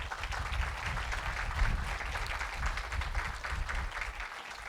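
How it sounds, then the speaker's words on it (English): An audience at a ribbon-cutting ceremony for a college biotechnology and student services center applauds the trustees, a steady, moderately loud wash of clapping from many hands holding even for several seconds. "Let's give our trustees a round of applause."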